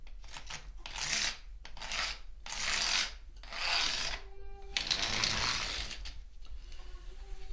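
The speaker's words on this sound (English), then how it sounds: "this is done by just scraping the type smooth" Metal printing type being scraped smooth to dress it: repeated rasping, filing strokes in a steady back-and-forth rhythm, close and fairly quiet, ending with a few light clicks of metal pieces.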